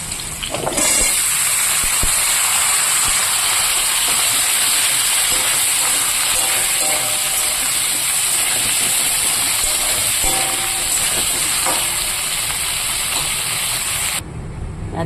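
Potatoes and vegetables frying in a pan, a loud continuous sizzle and hiss that runs steadily for about fourteen seconds before cutting off, close up with no speech.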